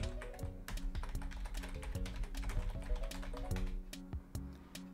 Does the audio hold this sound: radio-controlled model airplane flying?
no